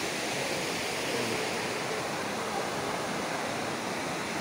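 Rainwater pours and rushes steadily during rainy, cloudy weather outdoors, making a dense, even hiss with no break and no voices.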